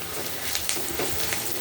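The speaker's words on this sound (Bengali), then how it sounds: "পেঁয়াজটা লাল লাল করে ভাজা হোক" Onions fry in a pan for a prawn and jackfruit dish, a steady close sizzle with faint stirring scrapes and no talk.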